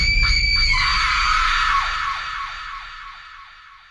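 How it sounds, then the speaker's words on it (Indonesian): A woman's long, piercing scream of anguish, a dramatized effect loud at first and then fading with a wavering, quavering tail over about four seconds. "dia pun berteriak nyaring sembari menatap langit"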